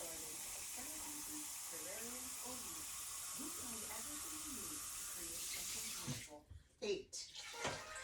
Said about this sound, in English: You need hot water in your canner.